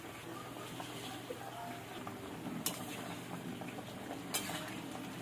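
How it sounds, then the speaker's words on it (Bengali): Curry broth simmering in a pan with drumsticks, potato, green banana and bori, a steady soft bubbling and sizzling bed with a couple of sharp utensil clinks, faint and close throughout, with occasional quiet speech. "ঝোলটা ফুটে উঠেছে"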